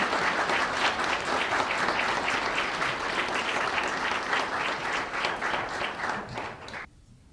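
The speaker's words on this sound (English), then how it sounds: "So please join me in a round of applause." A church congregation applauding to welcome new members, dense steady clapping from many hands indoors, fairly even and sustained before tapering and cutting off near the end.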